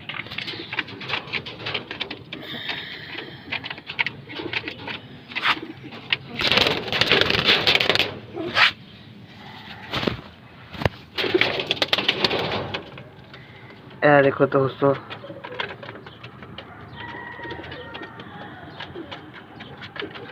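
Fancy pigeons coo in soft repeated bursts, with fluttering and rustling, while someone talks nearby.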